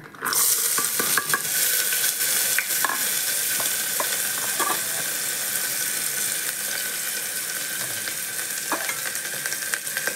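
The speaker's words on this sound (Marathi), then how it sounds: "तर कांदा आपण गोल्डन ब्राऊन होईपर्यंत भाजून घेऊया" Chopped onion frying in hot oil for mutton trotter soup, a steady close sizzle with occasional scraping stirs of a spoon in the pan, no talking.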